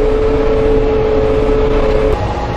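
A tractor cab mowing a field in third gear at about 4 miles an hour gives a steady loud engine drone with a humming tone, bumpy and continuous throughout.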